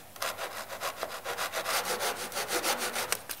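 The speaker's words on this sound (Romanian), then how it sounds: "tăiați-o cu un ferăstrău" A fine-toothed handsaw cuts through a laminate flooring board in quick, even back-and-forth strokes, about six per second, close and fairly loud with a rasping edge and no talking.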